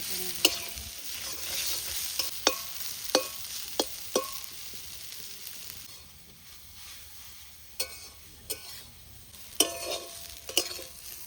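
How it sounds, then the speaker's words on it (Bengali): Freshly picked susuni greens being stirred and fried in a pan make a constant sizzle, with spatula taps and scrapes recurring at irregular intervals and no talking. "মধ্যে শাকটা দিয়ে দেব ভালো করে নেড়ে ভেজে নেব"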